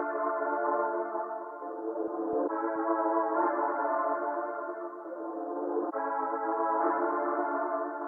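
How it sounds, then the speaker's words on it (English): Chopped chord sample, reversed back into itself and pitched down a full octave, plays as sustained, swelling harmonic tones that shift in blocks over about eight seconds, steady and alone. "so I decided to chop the sample a little bit and reverse it back into itself"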